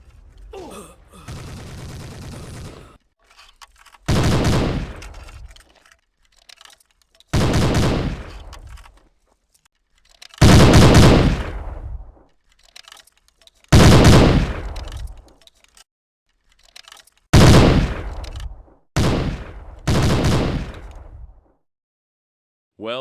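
Loud bursts of fire from a stationary machine gun in the tactical shooter Hidden & Dangerous 2, several separate rattling volleys of one to two seconds each, set apart by short pauses.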